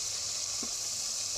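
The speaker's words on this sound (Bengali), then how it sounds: "এই যে মশলা এখনো কষাচ্ছি।" Spices fry in soybean oil, a steady close hiss of sizzling with one brief stir sound partway through, with no talking.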